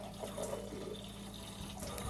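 Water pours steadily from a tap or watering can onto potted Phalaenopsis orchids, a soft continuous splash and trickle at close range with no talk.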